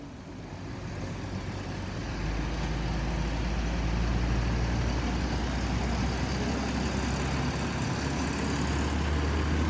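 A Sinar Jaya intercity bus on the Jogja–Jakarta route rumbles at the new Tingkir terminal in Salatiga, a steady low diesel drone that swells slightly and holds without talk.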